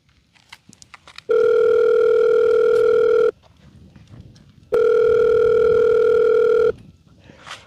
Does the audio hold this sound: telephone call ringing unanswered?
yes